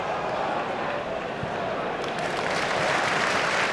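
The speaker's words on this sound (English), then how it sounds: "Every Leeds pass now is greeted with ripples of applause from the home crowd" Home crowd at a Championship football match between Leeds and Nottingham Forest applauding in a steady distant ripple, with a commentator's voice over it.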